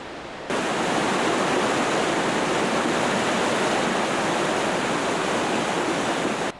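A forest stream surges through pine and fir woods, a steady, loud broadband rush of water that starts abruptly and holds constant without pause, with no voices.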